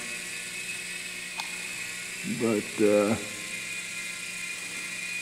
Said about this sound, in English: I figured I'd do my helicopter